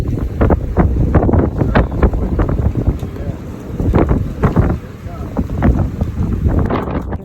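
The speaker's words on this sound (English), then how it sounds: "35 knots of wind in the bay" Strong gusty wind of around 35 knots buffets the microphone on a boat anchored in a bay, with loud rushing, irregular blasts and slapping water noise continuing throughout.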